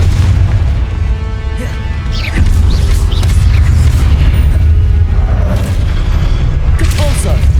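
Repeated fiery spell blasts boom and crash in a Hogwarts Legacy battle, a dense, loud barrage of explosions and bursts with game voices calling out amid the chaos.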